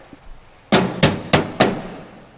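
Four sharp, evenly spaced hammer blows strike the sheet-metal transmission tunnel of a 1967 Chevelle's car body, each a loud metallic bang with a short ringing decay.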